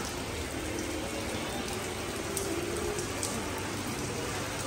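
Heavy rain pours down steadily at a hotel near Disneyland Paris, a dense, even hiss of drops on surfaces that fills the whole stretch without a break, close and loud, with no voices over it.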